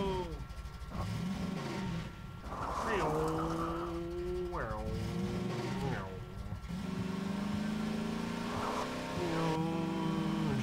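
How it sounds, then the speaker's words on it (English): A car in Garry's Mod races along with its engine revving up and down in rising and falling sweeps, loud and continuous, while a person talks over it. "Driving so fast"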